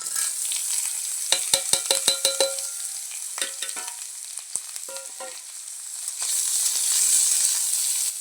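Sliced potatoes and apple snails hit a pan of fried onion, crackling and sizzling with a burst of sharp stirring clatters, then a steady hiss that swells louder toward the end, with no voices.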